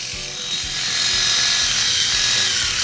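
DSPIAE reciprocating sander working on a small piece, a close, steady high buzzing rasp with a faint rhythmic scrubbing underneath, continuous and alone.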